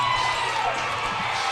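Hockey crowd at a Watertown home game roaring after a goal, a dense sustained wash of cheering and shouting that holds steady throughout.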